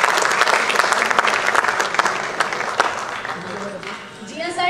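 Enthusiastic audience applause at a live cultural festival event, a steady dense roar of clapping hands that fades slightly near the end, with voices faintly mixed in.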